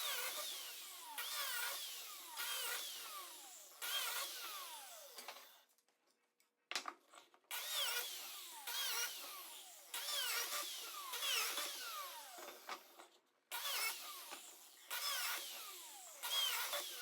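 A biscuit joiner cuts slots in walnut boards, its motor whining in a run of short, steady bursts, each winding down before the next cut. A longer pause falls midway, with no talking.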